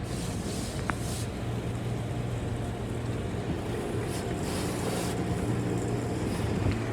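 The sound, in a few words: car wash tunnel spraying hot pre-soak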